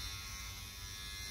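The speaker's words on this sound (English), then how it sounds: "This is actually a professional shaver." A professional electric shaver runs with a steady, close buzzing hum that stays even the whole time, with no voices over it.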